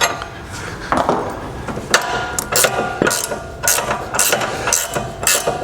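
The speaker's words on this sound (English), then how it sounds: "you're going to loosen this with the 18mm wrench" Rapid clicking of an 18mm ratcheting wrench loosening a fine-thread sway bar end link bolt on a 2015-or-newer S550 Mustang, heard up close as steady bursts of metallic ratchet clicks with no talking.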